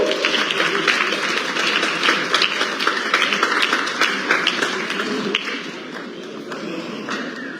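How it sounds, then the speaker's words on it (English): Steady applause from an audience at an award ceremony during a book launch, dense and fairly close, with clapping that tapers off toward the end and faint voices underneath. "Round of applause. Another round of applause."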